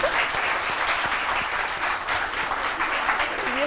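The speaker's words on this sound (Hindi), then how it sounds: "तालियां बजा." Studio audience applauding on a Pakistani morning talk show, a steady, dense wash of clapping that holds at even loudness for the whole stretch with no speech over it.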